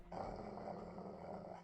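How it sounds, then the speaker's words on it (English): A large dog growls steadily and low in a Code Realize visual novel scene, a continuous rumbling snarl close up and fairly loud, heard alone without talk. "A large dog barks loudly and leaps on me."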